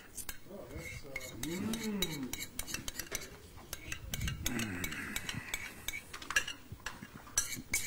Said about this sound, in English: now you're just going to dump it right down here into your little dish.